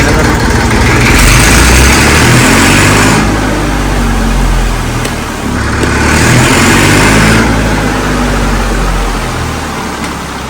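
A Massey Ferguson 35 tractor engine runs steadily at close range, a loud continuous diesel chug with two brief swells in revs before settling back, with no talking.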